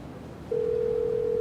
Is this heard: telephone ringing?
yes